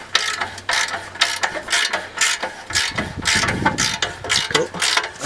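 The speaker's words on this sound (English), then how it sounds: "I'll just unbolt it." Quick bursts of a ratchet clicking as car exhaust headers on a Nissan S13 are unbolted, close and loud, several rapid strokes in a row with brief pauses between them.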